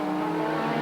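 Formula One race car at the 1986 Australian Grand Prix in Adelaide braking hard at the end of a straight, engine note whining loud and close with a harsh tonal edge through a brief moment.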